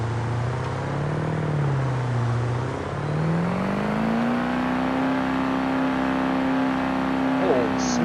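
Revving truck engine at a tractor pull in BeamNG, a loud sustained drone with rising and falling pitch that swells and climbs to a steady high roar, tagged Old Smoky.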